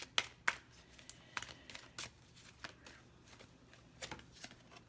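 Numerology cards for a reading are shuffled and handled by hand, giving a quiet run of soft riffles, taps and brief card flicks in irregular bursts, close and without talking.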